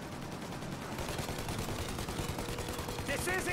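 Sustained gunfire raking a plane's engines as it tries to take off in Mafia: Definitive Edition, a dense rattle of shots running the whole way through with a few bright whistling tones near the end.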